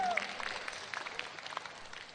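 A seminar audience gives a short, fairly quiet burst of clapping that fades slightly toward the end, with faint voices mixed in.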